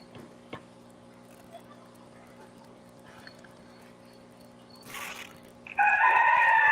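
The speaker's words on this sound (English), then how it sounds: "I hear those roosters, Griffin." Neighborhood roosters crow in the distance, a faint call at first, then a loud, bright crowing burst near the end over a steady low hum, with a brief noisy rustle just before it.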